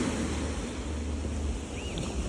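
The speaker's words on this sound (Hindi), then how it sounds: "और ये देखो कुछ लहरें" Waves wash onto a rocky beach at sunset in Santiago, Cape Verde, making a continuous low surf roar mixed with wind rumbling on the microphone, nearby and steady, with no talking.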